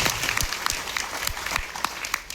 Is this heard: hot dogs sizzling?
no